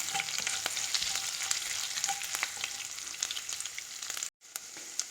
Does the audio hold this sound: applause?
no